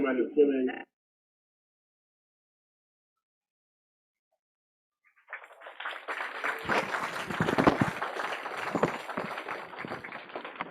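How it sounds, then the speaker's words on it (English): Audience clapping at an annual community tribute event. A brief spoken phrase comes first, then a pause, then applause rises and swells into a full, sustained round that carries to the end. "And another round of applause, please, for Dr. Andrew Briggs"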